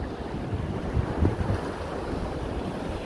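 Waves and surf on a beach near Valencia during surfcasting, a steady wash of moderately rough water with wind rumbling across the microphone, no voices.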